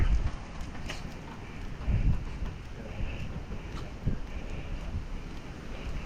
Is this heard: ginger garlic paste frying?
no